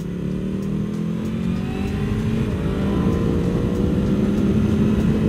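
A 2024 BMW M1000R motorcycle engine revving while being ridden, its tone rising and sustaining with a strong, smooth mechanical whine that builds slightly louder toward the end, heard close and alone without talk.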